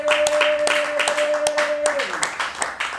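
Applause in a church during a sermon, a short burst of rhythmic clapping from a congregation mixed with a voice speaking over it.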